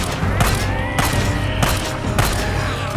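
Video game shotgun fire during a horde fight at a sawmill: a series of loud, booming blasts at roughly regular intervals, each with a sharp crack and a rumbling tail, no voices.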